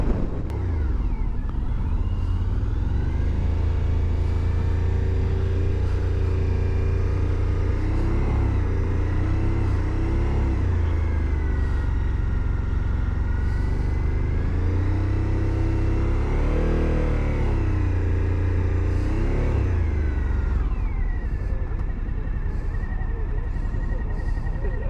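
A 2023 Suzuki V-Strom 1050DE motorcycle engine runs steadily and loudly up close while riding, with low droning rumble and pitch rising and falling through revs and shifts, including a noticeable surge near the end.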